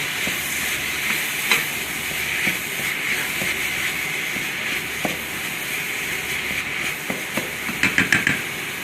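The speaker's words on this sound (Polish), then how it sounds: "Tutaj mięsko nam się już smaży." Minced turkey sizzles and fries in a hot pan, a steady close hiss with scattered crackles and a few sharper pops near the end, no voices.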